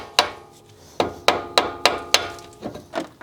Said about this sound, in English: we're going to use a brass hammer to just tap on the spindle to free it from the knuckle